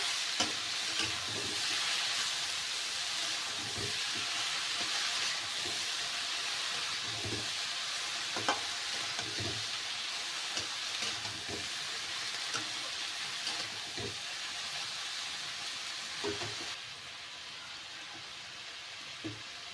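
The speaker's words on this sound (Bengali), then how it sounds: "এবার এর মধ্যে দিয়ে দেবো আমি বাঁধাকপি বাদর থেকে দিয়ে ভালো করে মিশিয়ে নিতে হবে" Cabbage stir-fried and mixed in a pan for a Bengali cabbage dish, a steady close sizzle with repeated soft scraping strokes of the spoon across the pan, no voices.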